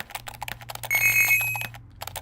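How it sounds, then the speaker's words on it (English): A bright, ringing chime from a video game when an object is touched sounds once amid a fast clatter of keyboard typing, lingering for about half a second before fading. "if we touch it, it makes a bunch of chime noises"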